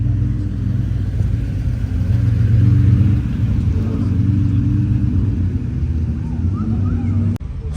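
A Pagani Zonda C12 Roadster in a video game gives a steady, loud, low engine rumble that holds throughout, ending in a brief sharp knock near the end.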